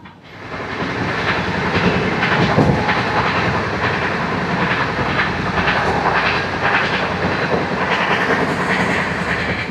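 Golconda Express, Guntur to Secunderabad, pulls away from Mahabubabad and rolls on with a dense, steady rumble and faint clickety-clack of the wheels, loud and close throughout.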